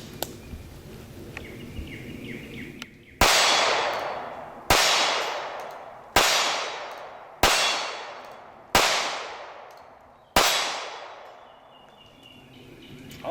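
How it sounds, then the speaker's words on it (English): Six sharp, loud shots from a Smith & Wesson Bodyguard .380 pistol ring out in a steady series, each crack trailing off in an echo before the next. "Shoots pretty good, so let's shoot it a little bit more."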